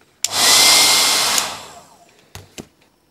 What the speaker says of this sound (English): we are gonna have to heat the jacket with a hairdryer also, so that it becomes soft and pliable enough to be slid off